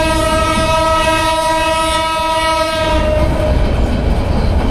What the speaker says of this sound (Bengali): যাচ্ছি এই মালগাড়িতে করে সামনে স্টেশন পর্যন্ত যাই